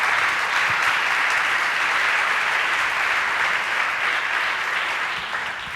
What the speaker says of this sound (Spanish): Les pido que recibamos con un fuerte aplauso al maestro Martín Caparrós